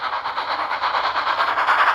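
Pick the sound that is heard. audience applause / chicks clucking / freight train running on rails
freight train running on rails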